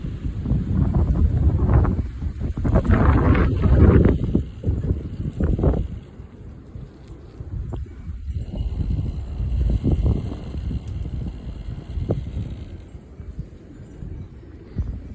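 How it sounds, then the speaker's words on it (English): Strong gusting wind outdoors in Utah, roaring and buffeting the microphone in loud, uneven surges that rise and ease over the whole stretch, with no talking. "Yep, the wind fluctuates."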